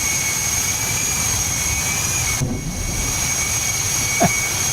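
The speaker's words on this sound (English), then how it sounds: "We can demonstrate the compressor stall of the engine actually while we're at it." An F-100 Super Sabre jet engine in a flight simulator game drones steadily, then a brief muffled cough of compressor stall cuts through the whine, followed by a short rising squeal as the engine keeps running.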